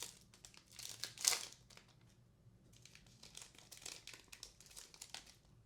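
A Topps football trading card pack being unwrapped, crisp foil crinkling and tearing close up, in short bursts with a louder rip early on, then softer intermittent rustling.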